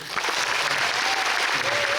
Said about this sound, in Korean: 한 박수 한번 주시죠.